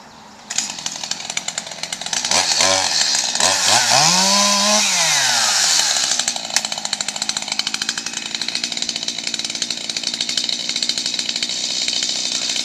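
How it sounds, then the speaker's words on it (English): A chainsaw roars up close, revving and bogging as it bites through grapevines, then settles into a steady loud whine. "You got a chainsaw, cut the thing."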